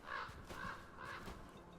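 Crows caw repeatedly in Dragon Age: The Veilguard, three harsh calls spaced about half a second apart over game ambience, close and fairly loud.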